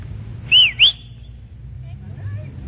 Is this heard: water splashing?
no